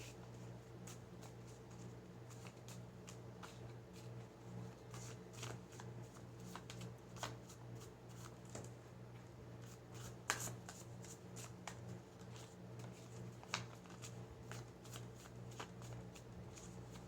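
Tarot cards are shuffled quietly and steadily up close, with soft repeated riffling and flicking over a faint background hum.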